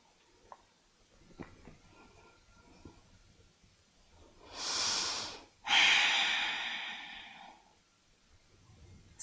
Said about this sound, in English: Come back to the Ujjayi breath.